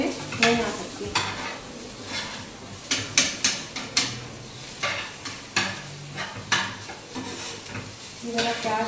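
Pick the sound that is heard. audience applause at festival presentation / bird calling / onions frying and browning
onions frying and browning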